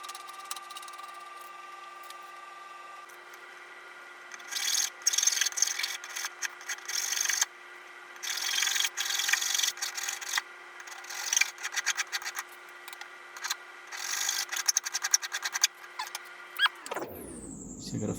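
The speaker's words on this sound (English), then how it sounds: "you've got to file those pins off and smash that apart now" File rasping against metal pins held in a twin screw vise during a workbench build, irregular bursts of scraping strokes over a steady faint hum, closing with a falling whine.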